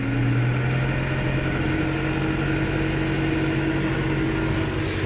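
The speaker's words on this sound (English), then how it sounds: "we'll get our pump out up to the RPM we want" A spray cart pump engine running steadily up to working speed, a continuous loud droning hum with constant tone and no pauses, heard alone close by.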